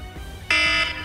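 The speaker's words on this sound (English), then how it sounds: "Sorry about my alarm went off." A shrill electronic alarm suddenly starts sounding steadily indoors over a faint background hum, loud and close, lasting about half a second before easing slightly.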